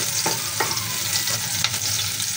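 Garlic and onion frying in a pan give a steady, close, loud sizzle with a few brief stirring scrapes breaking through, no voices.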